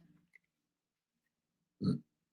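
A single short, close burp sounds on its own after near silence, with a faint voice murmur at the very start.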